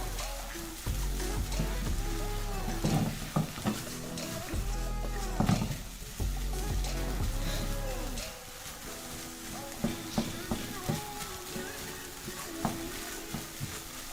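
Melting cheese and green chili corn are stirred in a pan over a flame, with repeated scraping strokes and a soft sizzle underneath, louder in the first half and easing into lighter, scattered scrapes.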